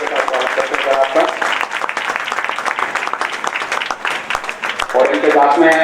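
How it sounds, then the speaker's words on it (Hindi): An audience at a school seminar on drug abuse applauds steadily to welcome a guest, a dense roll of clapping filling the hall while an announcer speaks over it through a loudspeaker. "जबरदस्त ताली के साथ स्वागत करते हैं आपका"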